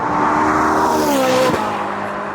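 Ferrari 458 flat-plane-crank V8 revving hard toward its 9,000 RPM limit, a loud high-pitched howl that climbs, then drops sharply as the revs fall away.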